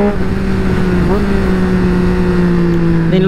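A Triumph Speed Twin 900 motorcycle without a slipper clutch drones steadily while riding, its engine pitch dropping in quick shifts as it downshifts, loud and close under wind noise.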